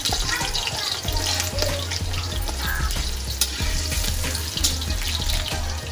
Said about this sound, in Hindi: आलू मैं तेल में छोड़ चुकी हूँ